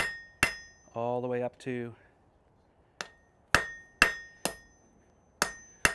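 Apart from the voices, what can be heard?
hammering a bevel onto hot steel in a smithy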